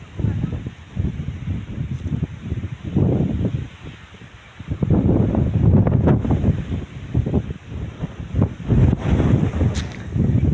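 Strong gusty wind during a sudden weather change on a farm buffets the microphone with loud rumbling bursts and rustling that rise and fall in waves.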